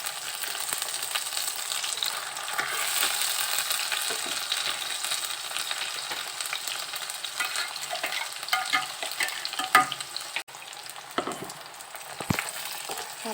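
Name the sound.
stirring and frying chicken masala in a pan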